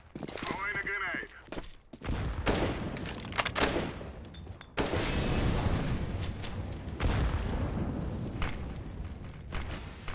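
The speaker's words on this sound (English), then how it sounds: "Throwing a grenade." In a CS:GO match, a grenade blast booms amid bursts of rapid gunfire and clattering action, loud and fairly close, with brief gaps between volleys and players talking over the fighting.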